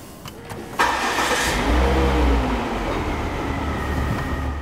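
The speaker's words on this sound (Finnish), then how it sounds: "Tämän jälkeen laitetaan auto käyntiin ja katsotaan," A Volvo car engine cranks and catches at close range, then settles into a steady, loud idle with a deep low rumble for several seconds.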